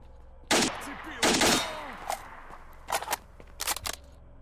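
Gunfire in the video game S.T.A.L.K.E.R. in the Red Forest area: several sharp bursts of shots, two long rattling volleys then shorter clusters, loud and close with decaying tails between them.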